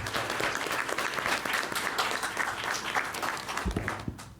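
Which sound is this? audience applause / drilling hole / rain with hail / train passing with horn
audience applause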